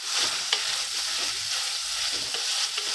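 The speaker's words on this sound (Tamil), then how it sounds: "கழுவி வச்சுருக்கிற மட்டனை சேர்த்துக்கிறேன். சேர்த்து நல்லா எண்ணெயிலே சுருள வதக்கிக்கிறலாம்." Mutton pieces sauté in hot chili-powder oil for a mutton kulambu, giving a steady close sizzle and hiss with a few faint stirring scrapes throughout, no voices.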